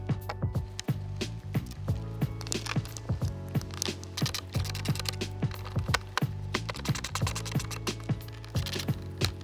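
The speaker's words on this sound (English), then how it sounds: "Reinstall your 4 T20 screws." Four T20 Torx screws are driven back in to fix an AFS module into a 2014-2016 BMW Z4 headlight, giving close, repeated clicking and ratcheting with sharp ticks throughout, no talking.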